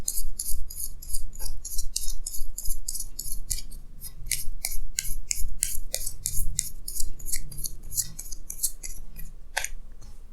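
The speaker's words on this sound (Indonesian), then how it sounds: "saya akan tarik lagi 2 kartu tambahan" Tarot cards are drawn and shuffled from a deck, a quick series of crisp, close paper swishes and flicks in an irregular rhythm.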